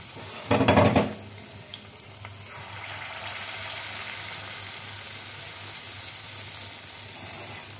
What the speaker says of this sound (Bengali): আমি ছোট ছোট করে মালপোয়াগুলো ভাজবো।